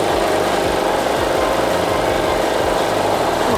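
A portable 2.3 kVA inverter generator runs in economy mode, a loud, steady engine hum with a throbbing low drone and constant mechanical rattle, heard close up and alone.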